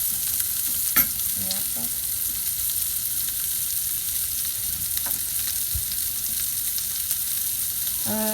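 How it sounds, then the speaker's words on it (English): A beef burger patty fries in a pan with a steady, even sizzle that runs unbroken throughout, joined by a few light clicks and scrapes near the start and end. "that's sizzling really nicely. It's going to form a crisp layer."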